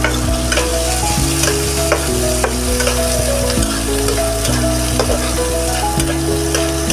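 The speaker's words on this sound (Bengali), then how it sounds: "পেঁয়াজগুলোকে সুন্দর করে ছাড়িয়ে ছাড়িয়ে ভেজে নিচ্ছি" Onions frying and being stirred in a pan for a spiced egg curry, a loud continuous sizzle with regular scraping strokes of the spatula, close up and with no one talking.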